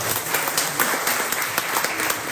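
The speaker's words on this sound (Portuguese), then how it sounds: "uma salva de palmas." An audience at a forum on popular tradition gives a round of applause, with dense, close clapping sustained through the clip and a faint murmur of the crowd beneath it.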